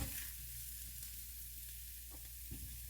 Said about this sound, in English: put a little bit of oil in there and heat up my sausage